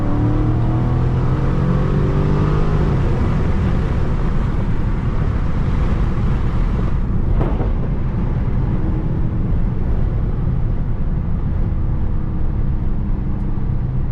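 Low rumble of a Dodge Charger Scat Pack Widebody engine while driving, steady and loud under heavy wind and road roar, with a brief revving rise early on before settling into a constant drone.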